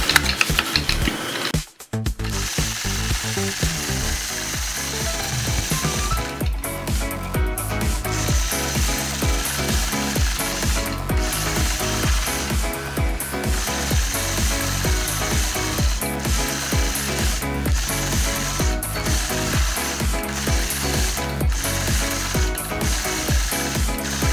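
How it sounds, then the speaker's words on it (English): A sewing machine does free-motion quilting on fabric, stitching a scallop sunflower with a Sway 4 machine in a steady, rapid mechanical clatter that runs continuously, close and loud, with no talking. "Thanks for joining me in this machine quilting video."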